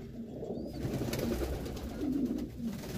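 Meat pigeons in a nest pan cooing softly, low repeated coos with a steady murmuring background, fairly close and moderately quiet.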